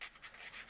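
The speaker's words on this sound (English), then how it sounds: "Just a little bit of sanding." Light sanding on a small wooden part of a Ugears Dream Cabriolet VM-05 mechanical model kit, a soft rasping rub in short back-and-forth strokes, close and quiet with no voices.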